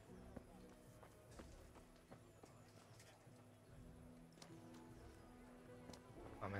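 A horse's hooves clip-clop at a walking pace in the video game Kingdom Come Deliverance, a faint, steady rhythm of hoofbeats with someone speaking over them.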